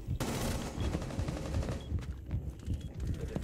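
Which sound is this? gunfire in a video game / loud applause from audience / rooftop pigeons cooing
gunfire in a video game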